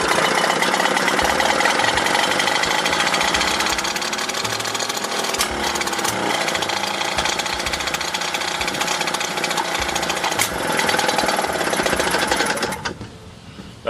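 A rebuilt 1928 Johnson A-35 outboard engine runs steadily and loudly up close, a fast continuous buzzing chatter that holds for about twelve seconds before cutting off abruptly near the end.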